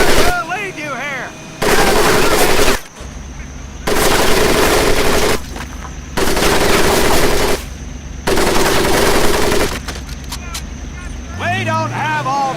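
Bursts of machine gun fire rattle in the Medal of Honor: Pacific Assault video game, coming in four long loud volleys with short pauses between them and faint whistling effects around them.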